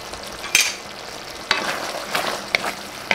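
White onions go into a pan of pork guisantes, frying with a steady sizzle broken by several sharp stirring scrapes and clanks at regular intervals, with no voices.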